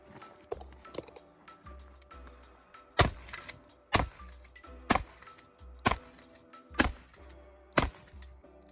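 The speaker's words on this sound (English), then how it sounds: "we'll go left-handed with some twin reload in action here" Shells are loaded left-handed, two at a time, into a Remington 870 Police Magnum shotgun, giving a series of about seven sharp, close metallic clacks at roughly one-second intervals with soft handling noise between them.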